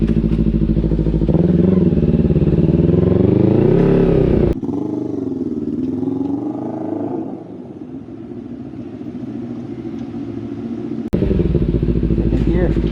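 A Kawasaki Z300 motorcycle engine winds up loudly through the gears, its pitch climbing then dropping at each shift, close and steady over rushing wind, with a rider speaking briefly.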